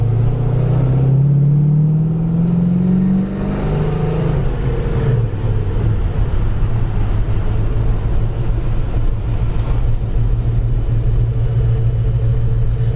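1972 Pontiac LeMans with a big block engine and a 4-speed, rumbling steadily while driving; a deep, loud, continuous engine drone rises in pitch early on, then settles into an even rumble with no talking.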